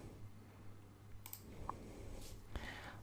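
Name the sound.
computer mouse clicking on the Windows 10 start button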